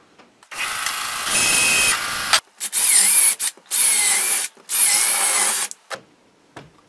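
Power drill or driver boring out a wooden handle from an axe head, a long whirring run followed by several shorter high-pitched bursts separated by brief pauses, close and loud.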